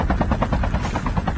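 Drone in an online battle-royale shooter game flying close by, a loud steady rotor buzz pulsing rapidly and continuously throughout with no talk over it.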